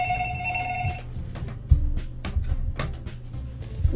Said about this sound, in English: I have this phone, right, that goes off randomly